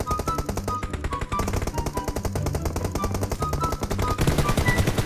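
Rapid machine gun fire in a battle royale shooter game, dense repeated bursts of shots rattling steadily throughout at close range, with no talk.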